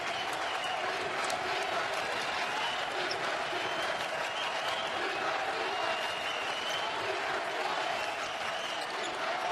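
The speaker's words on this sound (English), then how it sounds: "Crowd very much alive." A basketball crowd at a Wisconsin–Milwaukee versus Green Bay game cheers and claps in a steady, lively roar of arena noise.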